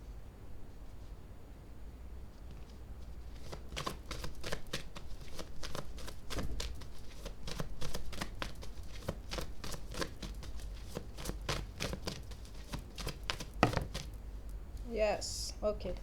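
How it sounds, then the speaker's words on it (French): Tarot cards being shuffled and drawn at a table: a steady stream of close, crisp card flicks and riffles over a faint background hiss, with soft handling noises near the end. "Je vais tirer une deuxième carte."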